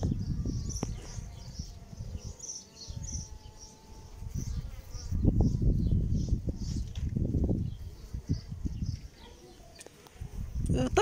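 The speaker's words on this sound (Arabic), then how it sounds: "النحل مباشرة يبدأ في ترميمها باستخدام البروبوليس" Honey bees buzz steadily and close by at a hive while they seal its cracks with propolis. A low, rumbling noise rises and falls underneath the buzz.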